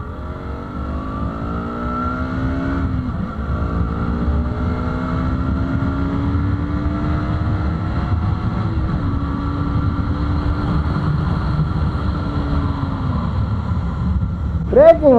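Ride on a 2019 KTM Duke 200 ABS, its engine revving up steadily through the gears, pitch rising then dropping at each shift, with wind buffeting the microphone and a sharp rev burst at the end.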